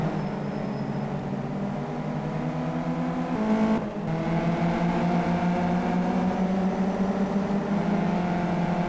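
Race cars in a racing game thunder down the straight at Indianapolis, tucked in close behind one another to draft, with a steady engine drone and a brief Doppler dip as they pass.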